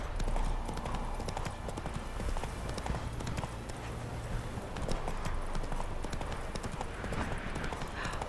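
Roach the horse gallops in The Witcher III, a dense continuous drumming of hooves across the whole stretch, fairly loud over ambient game sound.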